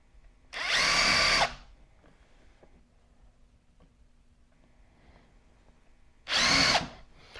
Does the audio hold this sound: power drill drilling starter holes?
yes